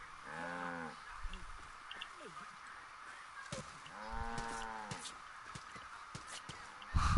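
Two cows moo in the video game Far Cry 5, one early and one a few seconds later, each a drawn-out low call, with scattered thumps and clatter between.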